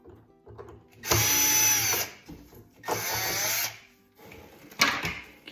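A power driver whirs in three loud bursts, separated by quieter handling clicks, while removing a Phillips head screw from the door boot clamp on an LG washer/dryer.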